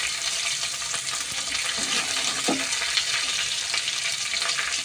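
Whole garam masala frying with mint, onion, carrot and beetroot in a pot for a biryani-style dish gives a steady, dense sizzle throughout, close and even, with a faint stir or two.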